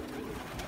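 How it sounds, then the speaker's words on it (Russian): A white-winged pigeon coos softly at close range in a short, low, steady call against a quiet background. "это вот этот же белокрылый голубь"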